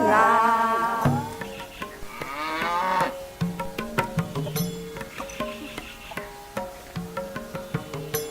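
Cattle moo loudly in a village setting in Tripura, a long drawn-out low call followed by a second, with rhythmic knocking or tapping sounds continuing underneath afterward.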